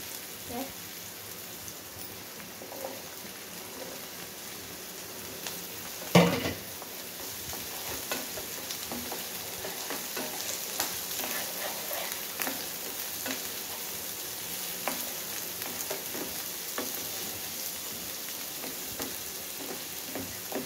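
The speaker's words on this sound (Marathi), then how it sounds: "आपला कांदा थोडा लाल झालाय तर या आपण टोमॅटो टाकूया।" Onion and tomato frying for masala Maggi: a fairly quiet, crackling sizzle with irregular stirring scrapes, a sudden thump as something drops into the pan partway through, then continued popping and spitting.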